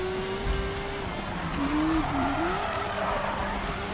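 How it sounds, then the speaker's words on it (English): A car drifts in Need for Speed (2015), its tires squealing in a long wavering whine over steady engine roar, with no talk. "That was a bad drift."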